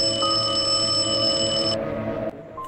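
Electronic phone ringtone, a bright steady multi-tone ring that plays loudly and continuously for almost two seconds before cutting off, with no voices.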